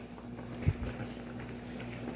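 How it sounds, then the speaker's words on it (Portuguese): Sausages boil in a pot of water, a low, steady bubbling and simmering with one brief louder pop, close and without talk. "Eu comecei aqui com a salsicha fervendo, né, gente? Que é bom ferver."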